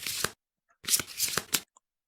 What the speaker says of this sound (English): But the good news is we can shuffle our deck.